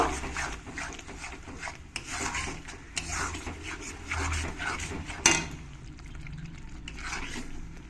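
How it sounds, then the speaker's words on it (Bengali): Spice paste of cumin and coriander powder being stirred and fried in a pan with a spoon, scraping and rubbing steadily and close with a sizzle beneath, for a mustard-paste pomfret fish curry. "মশলাটাকে ভালো করে একটু কষিয়ে নেবো"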